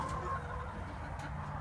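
Hens cluck softly and continuously inside a mobile chicken tractor with a mesh floor and roosts, close by amid a low murmur of farm ambience.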